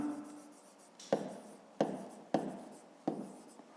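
A pen writes out a fifth-grade math exercise on paper, several distinct scratchy strokes in an uneven rhythm, close and quiet with no voice over them.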